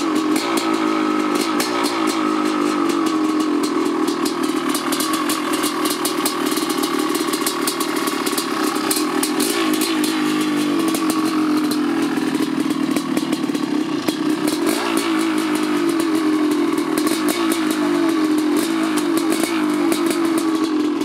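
A Honda 500 CR motorcycle engine runs steadily after starting, a loud, continuous close-up idle with a rough, clattering pulse and slight revving throughout, no voices heard.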